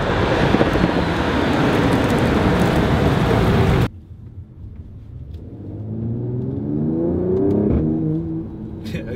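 Mercedes-AMG CLS 53 (2019) accelerating hard, with loud wind and road roar up close, then cutting to a quieter engine note that climbs steadily in pitch through the gears.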